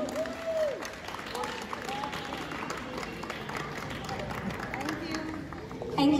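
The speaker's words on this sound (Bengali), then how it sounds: "সবাই একটু জোরে হাত তালি শরণের জন্য।" An audience at a food festival claps for Sharon, a crowd's scattered applause sustained for several seconds, mixed with talking voices and rising slightly at the end.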